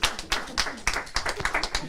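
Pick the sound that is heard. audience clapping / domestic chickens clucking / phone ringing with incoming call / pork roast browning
audience clapping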